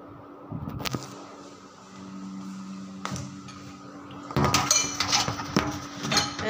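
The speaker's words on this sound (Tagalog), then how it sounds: "Ayan guys, maghugas ako ng plato." Plates and cutlery clinking and clattering while dishes are washed by hand in a home kitchen, with sharp bursts of knocks at the start and a busier stretch of overlapping clinks toward the end.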